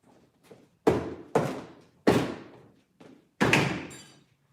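Cats knock objects around in a saw shop, making five sharp, fairly loud thuds and bangs at uneven intervals, each ringing briefly before dying away, with quiet rustling between.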